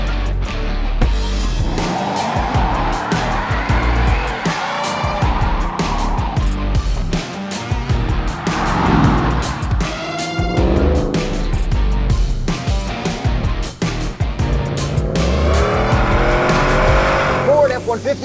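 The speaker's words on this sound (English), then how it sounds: "Ford F-150 with the FP700 Supercharger package. Without launch control." Supercharged V8 Ford F-150 with the FP700 package launching hard without launch control, loud engine roar with repeated tire squeals and skidding throughout, with people talking and exclaiming over it.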